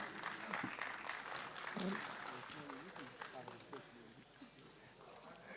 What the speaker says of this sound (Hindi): जी, स्वागत करेंगे तालियों से।